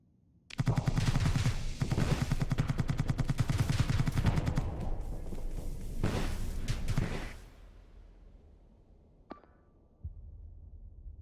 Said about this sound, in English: The beam weapons are online.